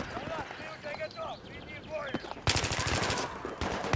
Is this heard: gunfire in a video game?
yes